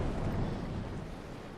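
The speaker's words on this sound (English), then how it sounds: "you can fire each cannon individually" A ship's cannon fires during a naval sea battle in the sailing combat game Naval Action, heard as a dense, rumbling boom that holds steady and then slowly fades. No one speaks.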